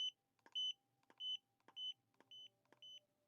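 Short electronic beeps from a Godox V1 camera flash signal it has recycled, six crisp tones in a regular rhythm, each preceded by a soft click of the flash firing, close and clear in a quiet space.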